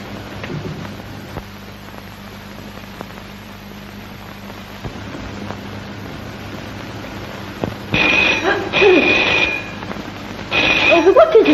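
A telephone rings in bursts of shrill bells near the end, two rings separated by a short pause, after a stretch of crackly background hiss from an old 1932 film soundtrack.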